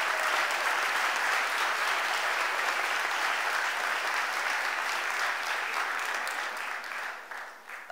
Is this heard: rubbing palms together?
no